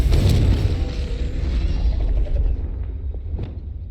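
A Confringo fire-blast spell goes off in Hogwarts Legacy with a loud, deep booming burst, then a rumbling tail that fades out over a few seconds.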